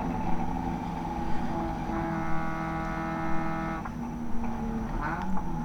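Spec Miata race car engine droning steadily at Barber Motorsports Park, heard from in the car during a NASA Midsouth race, with a sustained mid-pitched tone and a brief dip as the gear changes.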